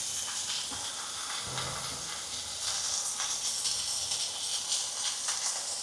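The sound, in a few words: carrot and vegetables sautéing in a pan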